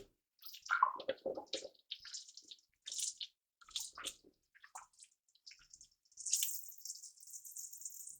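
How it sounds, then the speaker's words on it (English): Hands are washed at a kitchen sink, with faint intermittent splashing, dripping and rubbing under running water and no talking. "I'm gonna go ahead and wash my hands real quickly."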